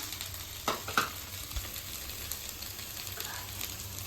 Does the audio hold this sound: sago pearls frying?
yes